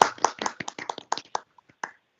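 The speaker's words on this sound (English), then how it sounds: "Round of applause." Applause at a board meeting, a small group clapping briefly with loose, uneven claps that thin out and stop within two seconds, fairly close.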